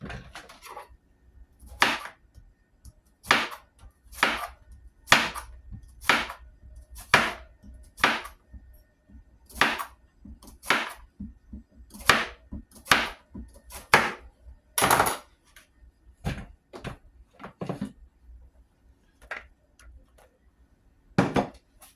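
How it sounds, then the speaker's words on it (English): A knife slices vegetables on a cutting board in a steady run of about twenty crisp, close chopping knocks, evenly paced with a few short pauses, alone and without any talk. "So we just slice them out."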